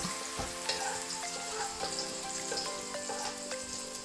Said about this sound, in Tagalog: Ito mantika natin, mainit na. So, ilalagay ko na yung garlic kagad.